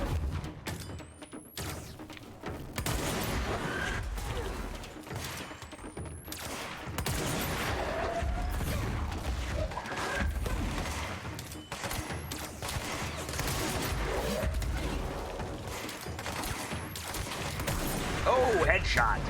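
Sustained gunfire from a firefight in the video game Control, dense bursts and thumping shots running for the whole stretch at a steady loud level, with a voice talking over parts of it.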